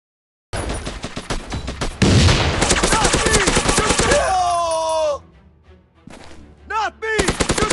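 Rapid bursts of assault rifle gunfire in a shooting video game, loud and dense, mixed with other in-game shots and effects, with a brief quieter lull before the firing resumes.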